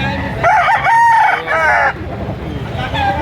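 A bullstag rooster crows loudly and close by at a Batangas livestock market, one long strained call followed by low background murmur.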